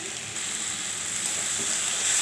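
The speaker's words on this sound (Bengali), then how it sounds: "এখন দিয়ে দেব এই ভেজে রাখা মাছগুলো।" Fried small fish go into a ridge gourd curry cooking over low flame, and a continuous, fairly soft sizzle hisses steadily, growing slightly louder toward the end.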